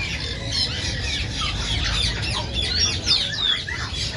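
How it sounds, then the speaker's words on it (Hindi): Pair of triton cockatoos squawking continuously, harsh and loud at close range, overlapping calls with no talking. "टाइट्रोन काकाटू साफ सुथरा जोड़ा है"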